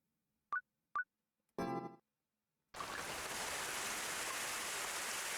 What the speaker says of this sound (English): Wet drops falling from the black sky.